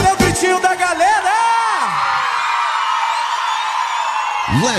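A crowd at a live forró show answers the singer with rising whoops and shouted cheers, loud and sustained for several seconds, following a short spoken call from the stage.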